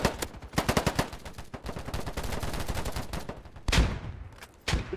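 Rapid bursts of automatic gunfire in a free-to-play shooter game, with dense rattling volleys that break off and come back loud and close, and no talk over them.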